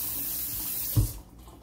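Hot water runs from a kitchen tap in a steady, close rush, with a brief louder burst as the flow changes before it settles back to a softer stream.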